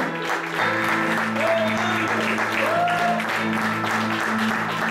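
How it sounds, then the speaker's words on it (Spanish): Congregation applauding during a church service, a continuous crackle of many hands beneath sustained musical tones and a voice, steady and fairly loud throughout. "¿Cuánto le dan palmas al Señor, hermano?"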